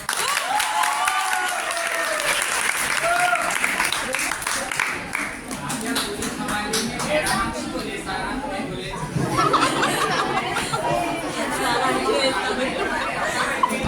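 An audience at a college freshers' party claps and chatters after a qawwali performance, with steady applause mixed with murmuring voices throughout.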